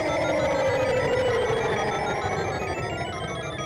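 Continuous looping P switch music from a Super Mario Maker 2 multiplayer battle, a steady bright chiming pattern played at moderate level for the whole stretch, with no voices over it.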